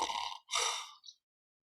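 A voice imitates snoring breath: a long airy exhale, a brief break, then a second drawn-out breath that fades into silence.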